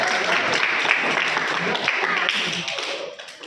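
A class audience gives a round of applause for the children. It is brisk and full at first, then thins and fades toward the end.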